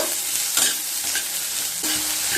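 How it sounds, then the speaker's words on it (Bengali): Chopped carrot and onion fry in a pan over medium heat, a dense continuous sizzle with a few brief scraping stirs, close and loud, no talking. "গাজর আর পেঁয়াজ দিয়ে মিডিয়াম স্টিমে 1 মিনিট ভেজে নেব"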